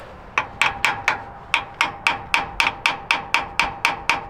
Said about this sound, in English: just give it some little love taps here without heating up the carburetor